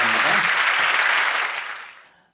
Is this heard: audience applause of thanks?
yes